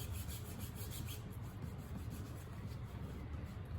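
Stain being rubbed onto a wooden crate, a faint, continuous scratchy rubbing and scraping that stays close and steady throughout with no speech.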